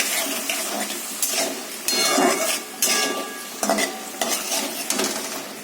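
Egg curry being sautéed in a pan with a little water added, heard as repeated spoon-on-pot scrapes and clinks over a soft sizzle, in irregular bursts close by with no talk.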